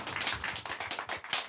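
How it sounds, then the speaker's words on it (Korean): A church congregation at a 2017 Thanksgiving Sunday service claps together in a quick, dense burst of applause, fairly close, with no voices over it. "자, 한번 큰 격려의 박수를"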